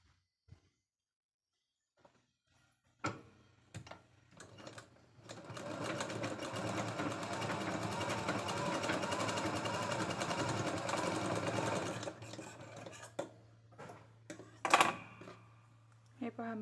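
A sewing machine runs a long continuous burst while a katori blouse is stitched, preceded and followed by short start-stop clatters and handling knocks; someone speaks between the runs.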